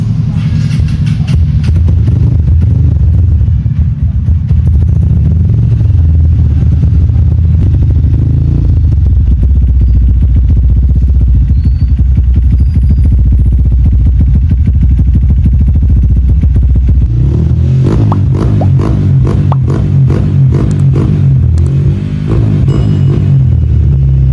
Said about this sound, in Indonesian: ini motornya kita coba hidupkan dulu